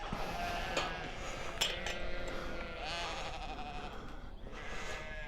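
Several sheep bleat in wavering cries, one after another at close to middle distance, near a campsite at Bala in Wales, over a quiet outdoor background with some faint clinks.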